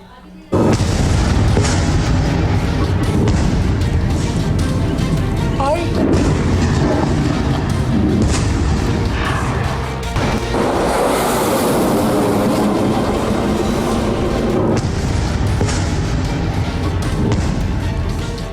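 Loud, continuous rumbling blasts and booming from a Hezbollah rocket attack on Haifa, dense and sustained throughout, with voices faintly mixed in.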